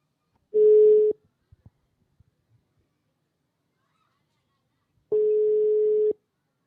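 Two long ringback tones on an outgoing telephone call, the first lasting about half a second and the second about a second, with a few faint clicks in the quiet gap between them.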